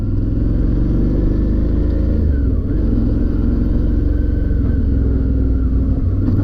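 Suzuki DL650 motorcycle engine rumbling steadily and loud up close during ABS brake testing, a continuous low drone with slight pitch dips as the rear wheel locks and releases, no talking.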